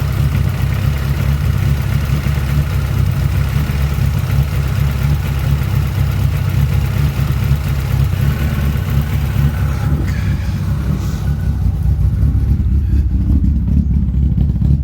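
A car engine idles steadily after a cylinder head replacement, a loud, close, continuous low rumble that holds throughout, with no voices.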